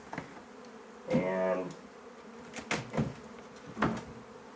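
A medium-sized swarm of honey bees in a trap box, building bridge comb, gives a close, fairly quiet buzzing with a few louder drones passing near, and a brief word spoken.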